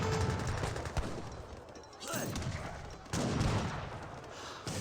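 Musket volleys from sharpshooters in Age of Empires 3, repeated bursts of distant crackling gunfire layered over battle noise, with louder clusters at intervals.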